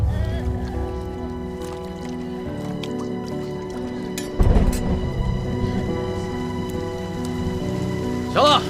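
Rain falls steadily outdoors in a period drama scene, a soft continuous patter beneath background music, with a brief louder burst midway and light dripping.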